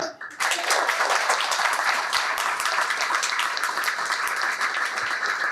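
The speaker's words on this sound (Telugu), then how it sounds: "అయ్యో చప్పట్లు కొట్టడానికి కూడా మొహమాట." An audience at a spiritual talk claps steadily and loudly for several seconds, a dense crowd of hands with a voice briefly heard amid it.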